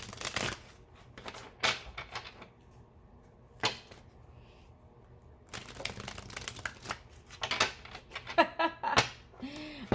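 Crisp riffling and snapping of tarot cards being shuffled in several quick bursts, close by, with short quiet gaps between them.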